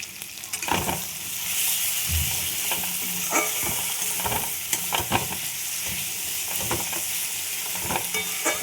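Ground cumin, turmeric and other spices are sautéed together in oil in a pan. A steady frying sizzle runs throughout, broken by repeated scraping strokes of a spoon against the pan.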